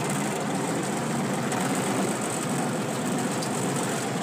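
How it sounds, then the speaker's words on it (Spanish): A tractor fitted with a mechanical shovel runs continuously while moving earth, a dense steady engine rumble filling the whole stretch without pause, no voices. "manejar el tractor con la pala mecánica mientras va grabando, complicado"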